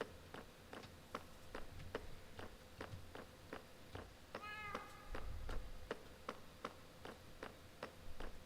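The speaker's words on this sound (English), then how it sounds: "Why are you constantly harassing the cat?" A Minecraft cat gives a short meow partway through, set against a steady run of evenly spaced footstep-like taps in the game, fairly quiet overall and with no talking.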